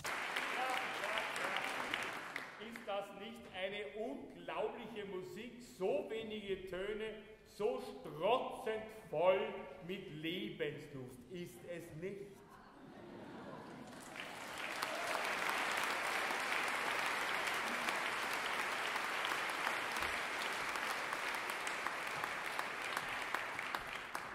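Audience applause fills a hall, first mixed under a choir singing, then a sustained, broad, steady clapping from a large crowd at moderate distance.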